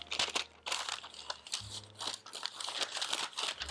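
Parchment paper being rolled and crinkled by hand in a kitchen, a close, continuous crackling and crunching with uneven bursts and brief pauses, with no talk.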